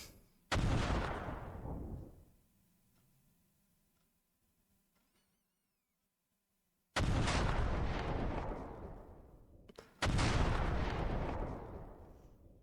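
Missiles launching and striking in the naval and air combat simulation Command: Modern Operations during a suppression of enemy air defences strike, three heavy booming blasts, each with a long rumbling tail, separated by quiet gaps.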